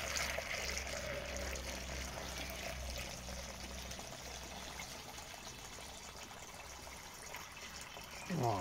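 Water is poured steadily into a buried clay oya pot feeding four tomato plants in a garden, making a continuous close trickling and splashing that lasts throughout with a brief louder splash at the end.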